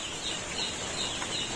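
Chicks one to two days old on a poultry farm keep up a dense, steady chorus of high peeping, loud and continuous throughout.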